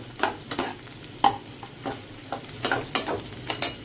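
Ingredients for jackfruit kofta fry in a pan while a spatula stirs them, giving a run of close scraping strokes over a soft, steady sizzle, with no talking.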